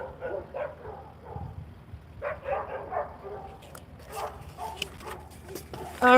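Dogs at a doggy daycare bark and yip in the distance, their scattered calls mixed with nearby outdoor voices talking over them.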